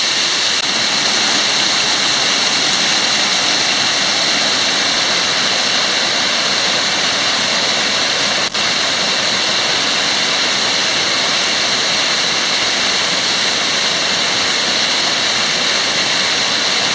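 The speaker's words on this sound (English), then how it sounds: "The waterfall here at Kubah National Park," A waterfall at Kubah National Park, Malaysia, rushes in a steady, loud, unbroken roar of falling water, close by and unchanging throughout, with no voices.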